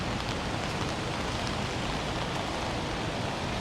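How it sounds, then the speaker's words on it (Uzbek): Light rain falls in Kuala Lumpur, a steady, even hiss of drizzle that continues without a break, with no voices. "Yomg'ir bizda почти to'xtadi. Ozgincha yog'yapti."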